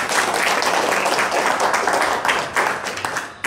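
Audience clapping at an Islamic religious talk, a dense steady patter of many hands filling the room from start to finish, fairly loud and close, easing slightly near the end with no voices heard.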